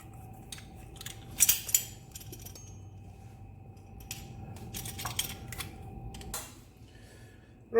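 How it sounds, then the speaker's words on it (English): Garlic squeezed through a metal garlic crusher into a bowl, giving soft close clicks, creaks and small metallic clinks in short irregular bursts, fairly quiet overall. "Just putting it through the garlic crusher into the bowl."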